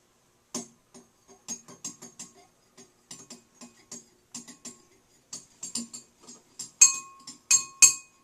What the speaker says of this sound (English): Now I'm going to stir it around.